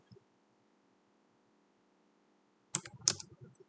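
A short burst of a few keystrokes on a computer keyboard, quiet and close, following a long near-silent stretch.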